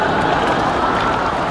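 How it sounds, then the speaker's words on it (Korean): An audience at an open talk for the film Project Y at the Busan International Film Festival applauds in a loud, dense and unbroken wash of clapping. "박수 부탁드릴게요"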